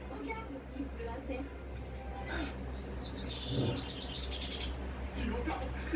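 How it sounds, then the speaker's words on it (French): Birds resuming their song after a storm, a few bright chirps and trills rising over a steady low rumble of background noise. "Tu l'entends? Les oiseaux se remettent à chanter."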